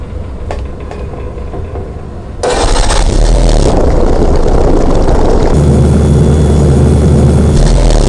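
Ship's port side engine in the game Grim Fandango throttling up: after a quieter stretch the loud, steady mechanical drone and roar abruptly swells and holds, joined later by a deeper hum.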